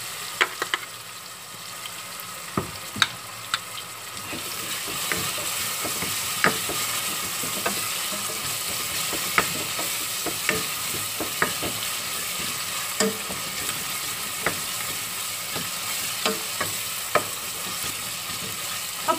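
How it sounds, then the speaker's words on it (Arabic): Tomatoes sizzle as they fry with garlic in a pot for a Tunisian mallow stew. A spoon scrapes and clicks against the pot at irregular intervals for about twenty seconds, over a constant loud frying hiss. "ونحط الطماطم"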